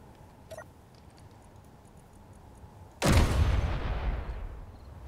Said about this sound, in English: let's try artillery now.